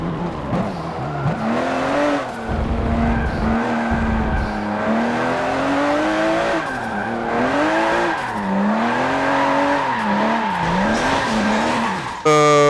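A Porsche 911 GT race car in Forza Motorsport 7 drifts and skids off the track, engine roaring steadily with long sustained tire squeal and pitch swings, loud and continuous for about twelve seconds.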